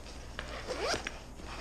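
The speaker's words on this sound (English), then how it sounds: "And then in the main compartment, you do have two zippers, as you can see, right here." Zipper on the main compartment of a Tournament Choice bait binder being drawn open, a quick rising rasp lasting about half a second, close and clear over faint room noise.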